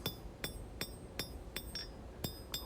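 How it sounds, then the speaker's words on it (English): Sharp metallic hammer blows on hot steel while forging a knife ring out at a steady rhythm, about eight strikes with bright clinking overtones, over a low background hum. "And we're going to hammer that down."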